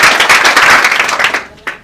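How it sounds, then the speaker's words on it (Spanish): Brief burst of audience applause for a lawyer, president of a women lawyers' association, at a women's awareness and protection colloquium, dense clapping that fades quickly with a last few claps. "Pido también un fuerte aplauso para la licenciada Laura Minerva de la Fuente Barrón"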